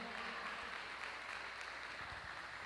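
A church congregation applauds, a continuous, even wash of clapping from many hands filling the whole short stretch without a break.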